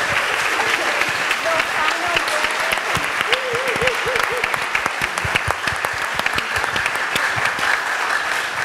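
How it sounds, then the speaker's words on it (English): An audience applauds at the end of a talk at the Brooklyn Museum, dense sustained clapping with sharp individual claps throughout, while a voice briefly speaks over it early on. "let's give one more round of applause for the fantastic folks"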